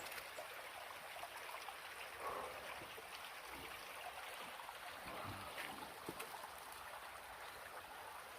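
A river in Dipton Woods, Hexham, Northumberland, flowing with a steady, soft broadband rush that continues evenly throughout, heard from the bank with no talking.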